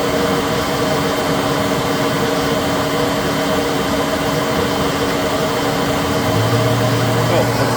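A Citizen L20 CNC Swiss lathe's sub spindle spinning at 7,000 RPM gives a steady, loud whirring hum with a high whine that holds unchanged throughout.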